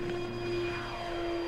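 An FMS F7F Tigercat RC model airplane runs at full throttle on its takeoff run, its steady electric whine holding close and loud throughout, with no talking.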